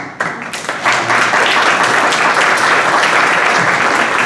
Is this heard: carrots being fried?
no